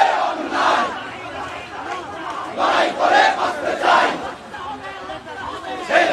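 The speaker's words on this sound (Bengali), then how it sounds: "ঢাকা বিশ্ববিদ্যালয়ের বিভিন্ন নেতাকর্মী যারা রয়েছেন তারা জড়ো হয়ে বিক্ষোভ করছেন" Student activists and party members gathered in Dhaka for a protest march, a dense crowd shouting and chanting in rising, overlapping surges, loud and close throughout.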